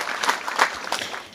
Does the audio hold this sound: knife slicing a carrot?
no